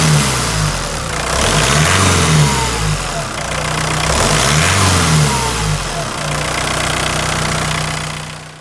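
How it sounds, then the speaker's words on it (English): Rover Maestro turbo diesel engine running steadily up close, a loud, rough mid-pitched clatter with slight swells in revs, alone with no talk. "the car is still running"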